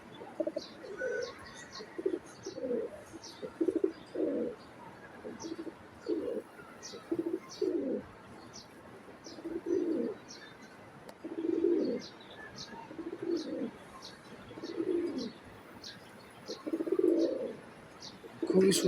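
A pair of silver beji pigeons coo in a steady, repeated rhythm, close and moderately loud, while thin high chirps from other birds keep going in the background.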